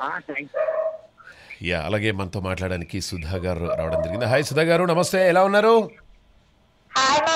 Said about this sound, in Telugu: కుక్క ఏదో అరుస్తుంది పక్కన